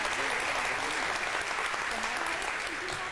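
A studio audience at a pantomime league game show applauds both teams with dense, continuous clapping that holds at an even level throughout, with a few voices faintly mixed in.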